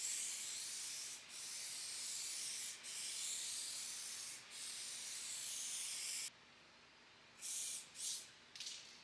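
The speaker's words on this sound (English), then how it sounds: "The paint we're going to be shooting today is Rust-Oleum Smoke Gray, or dark smoke gray, or smoke gray." Spray gun shooting Rust-Oleum Smoke Gray paint onto a truck, a steady close hiss of spray broken by brief pauses, then stopping and giving way to a few short final bursts.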